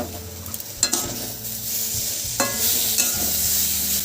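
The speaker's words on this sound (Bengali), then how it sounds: "সবগুলো ভালো করে মিশিয়ে নেব কিছুক্ষণ ধরে।" Spices with grated ginger and slit green chilies are stirred in a hot pan, a soft sizzle underneath a few loud scraping clacks of the spatula, then a steadier frying hiss, with no talking.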